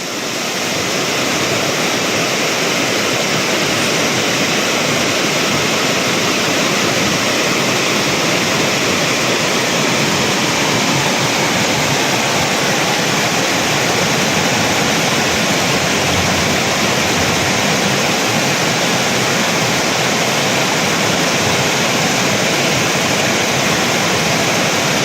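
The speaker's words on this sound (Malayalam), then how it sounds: "കോഴിക്കോട് ജില്ലയിലെ കടന്തറപ്പുഴയിൽ മലവെള്ളപ്പാച്ചിൽ." A flash flood torrent in the Kadantharappuzha river in Kozhikode gives a loud, unbroken rushing roar that stays constant for about 25 seconds, with no voices.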